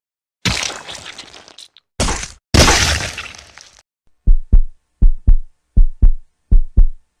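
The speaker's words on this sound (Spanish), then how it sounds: "podía escuchar los latidos rápidos de su corazón" A series of paired thumping beats, quick and regular like a racing heartbeat, following a few loud bursts of crashing noise at the start.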